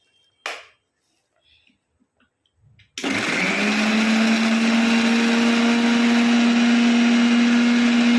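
An electric grinder blending spices into a paste starts after a few sparse knocks and then runs as a loud, steady motor whine close by until the end.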